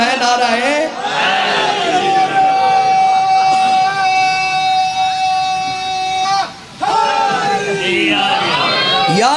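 Crowd at a Shia majlis shouting a religious slogan in unison, loud and close, with harmonic chanting voices sustained for several seconds, a brief pause, then a fresh burst of shouting.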